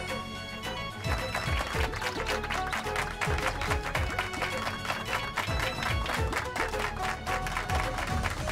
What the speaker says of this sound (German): meiner Schwiegertochter Komal mit einem großen Applaus zu danken